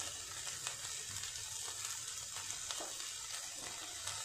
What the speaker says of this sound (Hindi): सिर्फ 2 मिनट के लिए हम इसको फ्राई करेंगे।